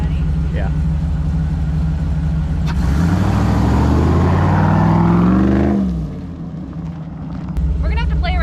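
A tuned V8 Jeep Wrangler engine idles loudly, then revs and accelerates with a rising roar on a test drive before dropping back to a lower rumble, with a brief voice near the end.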